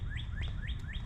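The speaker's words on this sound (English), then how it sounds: "Oh, did you hear the bird?" A bird on a dry-season nature walking trail gives four quick, evenly spaced rising chirps, clear but modest in level over a low outdoor rumble.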